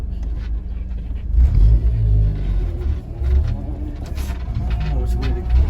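Honda Civic with a K20A Euro Type R engine swap driving and pulling away, a steady low engine rumble rising and falling from inside the car.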